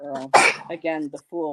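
A single sharp sneeze bursts out close by, loud and brief, set between stretches of a person talking before and after it.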